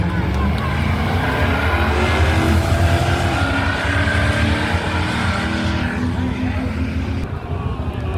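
An AMC Pacer and a Corvette launch down a drag strip, engines roaring loud and close in a sustained, rising blare with a changing pitch as they pull away; crowd noise mingles underneath.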